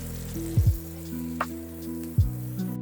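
Rib-eye steaks sear in a hot pan with a loud, continuous sizzle, punctuated by a few sharp sputtering pops and brief clattering touches close by.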